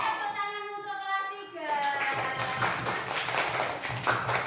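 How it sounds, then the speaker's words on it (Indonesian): Children in a class 3 classroom break into lively, continuous hand clapping after a harmonic sung or cheered tone fades, the claps dense and fairly close for several seconds. "Tepuk tangan untuk kelas"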